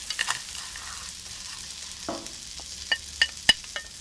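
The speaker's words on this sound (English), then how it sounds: "And now we are ready for the arborio rice. 350 grams. Stir it well." Arborio rice for a mushroom risotto stirred in a pan, giving soft scraping and light sizzling with a few sharp clinks of the spoon against the pan near the end, close and fairly quiet, with no voices.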